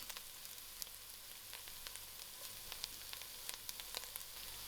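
Onions in a pot fry steadily to a soft brown, giving a constant soft sizzle with scattered small pops and crackles, quiet and close, with no talking.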